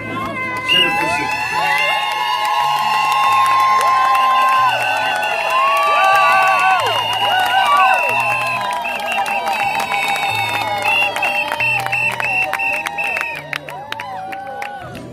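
Wedding guests at a church nuptial blessing in Paris cheer and whoop over background music, with voices rising and falling in a lively, sustained crowd sound.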